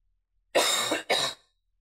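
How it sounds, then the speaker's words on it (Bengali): Two harsh coughs close together, loud and near, followed by quiet. "খুব কাশি"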